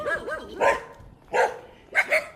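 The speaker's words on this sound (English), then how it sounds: "this little pup. Bark and run, bark and run." A small dog, a little pup, barks in short bursts, with a couple of whiny yips followed by three sharp separate barks, the last one doubled, close and clear with no talk.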